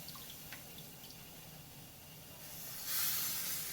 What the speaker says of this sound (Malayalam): ഇത്തിരി വെള്ളം തിളച്ച് നോക്കാം, തവ ചൂടായെന്നറിയാൻ വേണ്ടിയിട്ട്